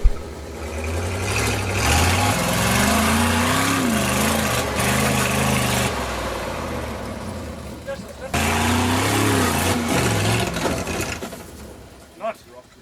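A modified Land Rover Series 2 engine labours offroad up a hill, its pitch rising and falling as the revs surge and ease. It runs loud and close, dips briefly midway, then fades toward the end.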